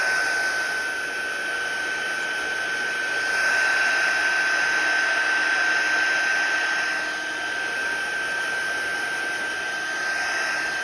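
A handheld drying tool blows air over wet watercolor paint, a steady whooshing hiss with a thin high whine that swells slightly midway and runs continuously, fairly close and without talk.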